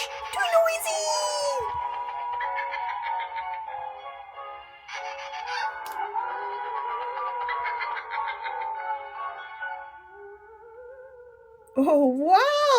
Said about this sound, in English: That sounds like a great Halloween party with ghosts and witches cackling and bats and werewolves.